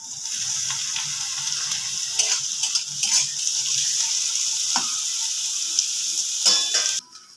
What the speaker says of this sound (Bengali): বিনস আর গাজরটা ভালোভাবে ভাজা হয়ে গেছে। এবার আমি ক্যাপসিকামটা দেবো।